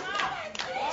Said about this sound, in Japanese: お客様からの拍手、これが耳に届いたか、手拍子耳に届いたか